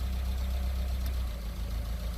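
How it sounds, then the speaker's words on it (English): A car engine idles steadily just under 1000 rpm with a low, continuous rumble and slight mechanical knocking, close by and unchanging throughout. "So it's idling just under 1000."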